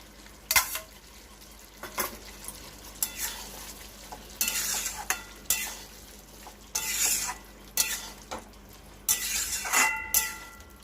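Fried prawns and boiled potatoes sizzle in a pan while a spatula stirs them in repeated scraping bursts, close and fairly quiet, with no talk.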